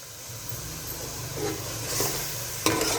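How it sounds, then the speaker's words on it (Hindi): Mungre (crisp gram-flour fritters) stirred into fried masala in a pan, a steady close sizzle under scraping spoon strokes that grow louder toward a sharp clatter near the end. "अब हम इसके अंदर डाल देंगे मूंगरे, अच्छे से मसाले के अंदर कर लेंगे मिक्स"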